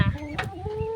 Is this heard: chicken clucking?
yes